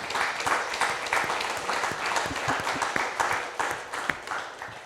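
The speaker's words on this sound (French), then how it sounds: "On peut l'applaudir parce qu'il fait très chaud aussi." Audience at a French conference on climate challenges and well-being applauds a speaker, a steady dense round of clapping from a room full of people that runs throughout and swells slightly in places.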